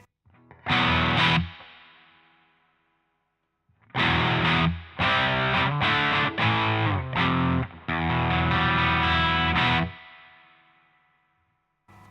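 Electric guitar on the bridge pickup through the Blues Driver side of a Boss JB-2 with the tone knob turned down, playing crunchy overdriven chords: a single strum that rings out, then a burst of rhythmic stabs and a held chord fading away.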